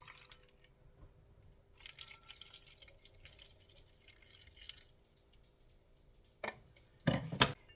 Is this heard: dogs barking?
no